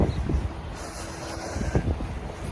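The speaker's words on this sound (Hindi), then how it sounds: "इतनी तेज हवा चल रही है" Strong wind under stormy skies during a tornado warning, blowing steadily and roaring directly into the microphone, with low buffeting rumbles and gusts throughout.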